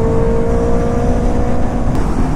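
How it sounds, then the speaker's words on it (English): A Benelli 600i motorcycle fitted with a full system exhaust holds a loud, steady high-revving drone on the road during a group ride, close and continuous, with no talking over it. "Benelli is sounding crazy. Do you hear that scream?"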